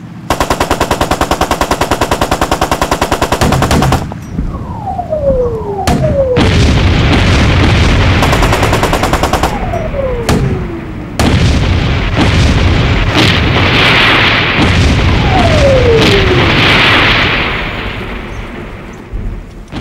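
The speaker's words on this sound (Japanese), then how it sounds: "全体砲撃開始。 はい、撃て撃て。" Gunboat artillery bombardment in a war film: loud, continuous machine-gun fire and heavy booming blasts, with whistling incoming shells falling in pitch before several explosions, dense and close throughout.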